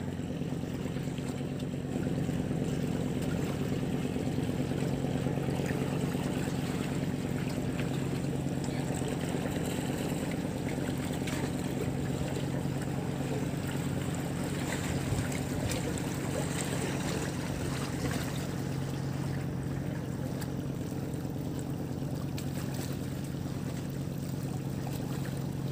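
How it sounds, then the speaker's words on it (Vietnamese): Small boats driven by motorbike engines on the water at Duong Dong in Phu Quoc, a continuous steady engine drone with water wash underneath, constant and fairly close with no talk. "Mấy ghe này chạy máy xe không?"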